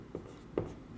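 A pen scratches on paper while figures are written down, giving short faint strokes in quick succession, close up and with no talk.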